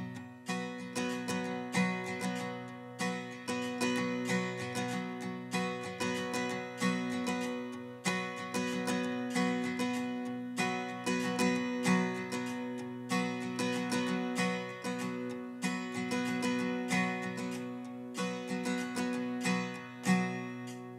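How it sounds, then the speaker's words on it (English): An acoustic or electric guitar plays a rock-style 16th-note strumming pattern, a steady, driving rhythm of rapid chord strums with regular accents. It repeats throughout at moderate volume, and no one speaks. "This is the 16th note easy listening groove"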